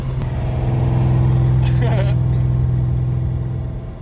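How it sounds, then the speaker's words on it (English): A mystery auction racecar with a newly installed engine idles loudly and steadily near the microphone, with a slight rev partway through, limited by a throttle cable that won't open fully. "The throttle cable won't let me open it up all the way."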